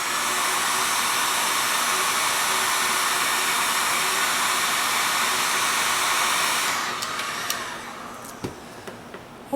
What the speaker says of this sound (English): I'm going to heat set this again.